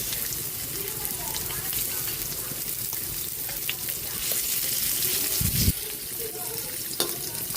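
Garlic and onion sauté in hot cooking oil for ginisang sayote, a steady close sizzle with stirring scrapes and a few knocks against the pan.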